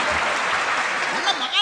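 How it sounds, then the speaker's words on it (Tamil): An audience clapping at a Tamil debate show, a dense, steady round of applause from a crowd that fills the whole moment and swells slightly near the end. "எங்கெங்கே கைதட்டு நீங்களே தட்டி காமிச்சிருங்க"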